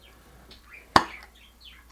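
Single sharp pop of a pizza sauce jar lid being opened, one brief crisp click standing alone against a quiet kitchen background.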